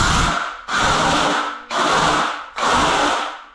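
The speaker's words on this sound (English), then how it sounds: "I'll carry on scraping." Four rough, loud scraping strokes against a wall being prepared for waterproofing, each a grinding rasp with short pauses between them, evenly paced and close.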